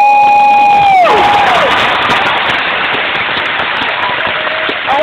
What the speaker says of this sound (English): Give Secret Service a big round of applause.